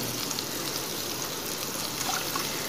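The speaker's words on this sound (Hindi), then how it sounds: "थोड़ा सा पानी ऐड करेंगे।" Water is poured into cooking bhindi masala, a steady soft trickle with light hissing and small splashes that continue evenly, fairly quiet and close.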